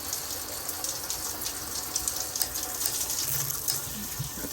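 Water sprays steadily from a shower head set to a rainfall pattern, a soft, continuous hiss and patter at moderate distance with gentle surges, and nobody speaks over it.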